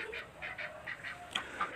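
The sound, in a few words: ducks on a duck farm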